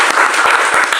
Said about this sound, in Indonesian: Kita kasih tepuk tangan bagi nama Tuhan